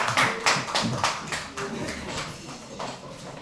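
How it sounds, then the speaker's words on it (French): Audience applause at a Christian church gathering, a cluster of distinct claps and hand taps that start strong and thin out, with talking mixed in. "Et on peut l'applaudir."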